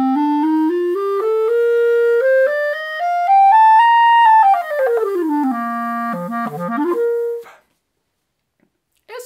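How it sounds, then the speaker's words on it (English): A woodwind reed instrument played with an old, soft reed: a solo melodic line of clear, sustained tones that rises, falls and then breaks into quicker notes for about seven seconds before stopping into silence. "So if I just play this how I like to play and how I normally play reeds, it sounds like this."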